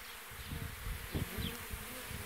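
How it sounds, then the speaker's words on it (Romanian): Honey bees buzz steadily around a hive being used to make a swarm split, a continuous close, moderately loud drone with a few louder passes, and no talk over it. "Și aici sunt albine."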